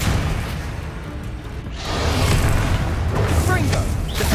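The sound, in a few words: Expelliarmus spell effect in Hogwarts Legacy video game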